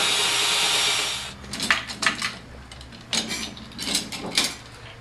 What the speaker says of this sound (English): It's a bit key, so you can put it right into your drill.